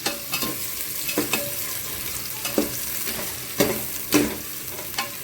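Onions and green chillies sauté in a pan for biryani, a steady sizzle punctuated by repeated sharp scraping strokes of a spatula at an irregular rhythm, close and clear with no talking.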